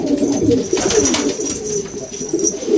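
Pigeons coo close by in a continuous, layered murmur of soft throaty calls.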